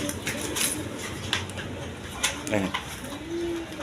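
Pigeons, fresh orange-beaked breeding pairs at a market stall, coo in soft repeated throaty calls beneath someone talking nearby, with light background clatter.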